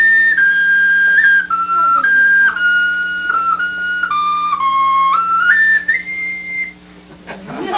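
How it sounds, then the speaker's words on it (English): A wooden whistle-type instrument plays a simple melody of clear, sustained high notes with short breaks between phrases, ending with a brief rustle. "Those are whistle type instruments."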